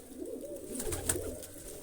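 Pigeons in a loft give soft, low cooing at moderate distance, steady through the moment with a faint high chirp near the middle; no voices.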